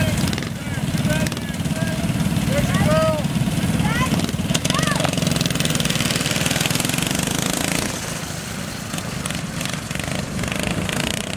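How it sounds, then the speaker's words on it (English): Motorized drift trikes race at an event, their small engines buzzing and rattling steadily and loudly throughout, with a continuous rough drone and occasional pitch sweeps as riders pass. "run the first heat in the drift trike race"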